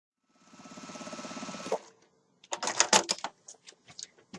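A sewing machine stitches a quilt strip in a quick, even run of mechanical clicks lasting over a second, close and moderately quiet, followed by scattered sharp clatters and taps as the fabric is handled.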